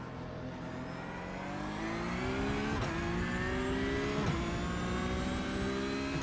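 Simulated race car in iRacing accelerating hard, a loud continuous engine note climbing through the revs with two sharp gear shifts that briefly drop the pitch, sustained and close throughout.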